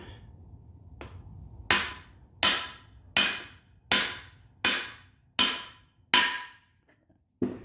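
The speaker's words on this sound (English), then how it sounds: "Fancy little tool, big giant hammer." A big hammer drives the axle shaft bearing of a Hummer H1 into place: eight evenly spaced, sharp metallic strikes about once every 0.75 seconds, close and loud, with no talking.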